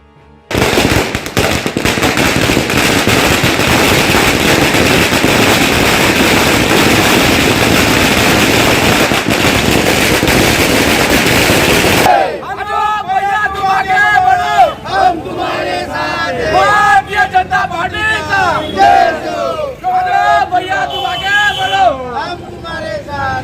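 Firecrackers burst in a dense, continuous crackling barrage at a crowded celebration for about twelve seconds, then cut to a cheering, chanting crowd.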